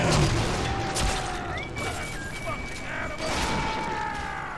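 Gunfire in the Bioshock 2 video game, a burst of shots and booming impacts at the start, then further bangs around the three-second mark, with mechanical whirs and tones layered over a dense, steady game soundscape.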